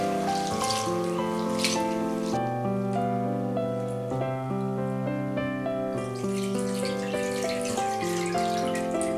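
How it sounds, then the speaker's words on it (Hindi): Water runs over mixed lentils (moong, masoor and chana dal) to wash them, a steady tap-like flow heard beneath louder continuous background music. "अब हम इसमें पानी डालेंगे और इसे अच्छी तरीके से धो लेंगे।"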